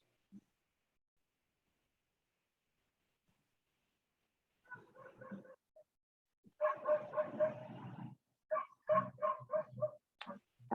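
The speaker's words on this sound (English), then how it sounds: "Somebody has a dog." A dog barks in a participant's room, a quick run of sharp, fairly close barks and yips after a near-silent start, growing busier toward the end.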